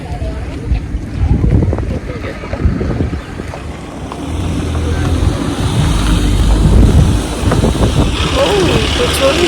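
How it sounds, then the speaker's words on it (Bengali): Cold wind blows through a cherry orchard of rows of cherry trees near Melbourne, a steady rushing buffet across the microphone that swells louder toward the end, with low rumbling gusts throughout. "বেশ ভালো ঠান্ডা ঠান্ডা হাওয়া দিচ্ছে"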